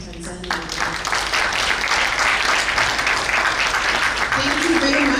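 A forum audience at a business and leadership event in Tanzania breaks into loud, sustained applause that fills the whole stretch at an even level, with a voice faintly audible beneath it.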